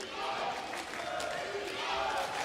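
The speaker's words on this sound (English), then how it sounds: "Lots of noise from the crowd today." A basketball arena crowd roars and chants continuously throughout, a dense wash of voices filling the hall at a steady loud level.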